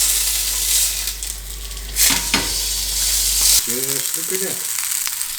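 Burger patty frying in a pan after being flipped, a steady close sizzle with a couple of sharp clatters, while someone speaks over the frying near the end.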